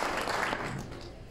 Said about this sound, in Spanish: les quiero dar un fuerte aplauso a todos los concursantes